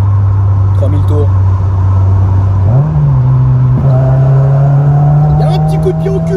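A Renault Clio 16S engine drones steadily close by, dipping as the throttle eases and then climbing again as it pulls back up, a continuous loud hum with a voice talking over it.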